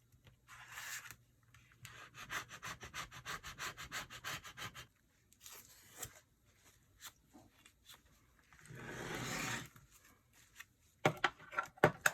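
A razor blade scrapes across an old, heavily used Cricut cutting mat in close, quiet strokes, a series of rasping rubs with brief pauses, ending in a few sharper scratches.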